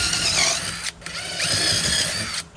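Power drill boring holes through a plastic 5-gallon bucket, a steady high whine running close and loud with a brief pause near the middle before drilling resumes.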